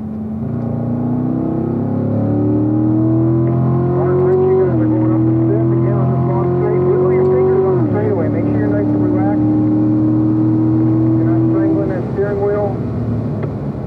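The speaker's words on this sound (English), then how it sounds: "Full throttle, third gear up to fourth." Race car at full throttle on a long straightaway at Spring Mountain, engine climbing loudly in third, then an upshift to fourth with the pitch dropping and rising again. A voice talks over the engine.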